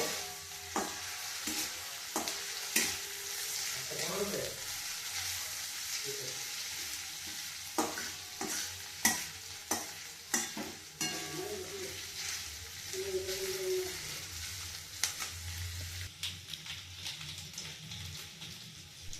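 A spoon stirring a baby corn and chilli mixture in a sizzling pan, steady frying hiss with intermittent scraping and clinking strokes, close, no talking.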